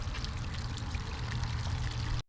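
Water pours steadily out of a crawfish purging container at an outdoor family crawfish boil, a continuous close, fairly loud splashing flow that stops abruptly at the end.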